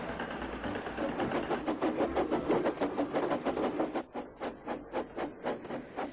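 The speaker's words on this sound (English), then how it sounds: "the tractor was hard at work as Thomas puffed along" A steam engine chuffs along in rhythmic puffs, steady and moderately loud, the beats becoming slightly more spaced near the end.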